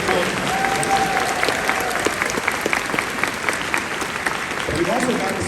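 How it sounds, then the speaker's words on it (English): A large convention audience claps in sustained, dense applause at an opening ceremony, loud and continuous throughout, with a voice on a sound system speaking over it. "Big round of applause for all the local Pittsburgh."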